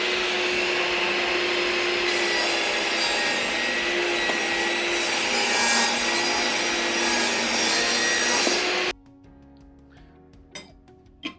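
A saw cuts through wood pieces for a homemade gumball machine, giving a loud, steady, close-up roar for about nine seconds. The sound then stops abruptly, leaving faint clinks and taps.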